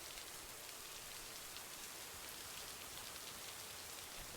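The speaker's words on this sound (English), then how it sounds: "I do have to say the rain... More of the thunder sound effect is really good." Steady rain from a video game set at a lake late at night, a continuous dense hiss of falling drops with no break, fairly faint and alone throughout.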